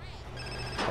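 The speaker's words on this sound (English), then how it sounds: "we got a phone call." A telephone rings in GTA San Andreas, a brief steady electronic ring over a constant game background hum, ending in a louder burst.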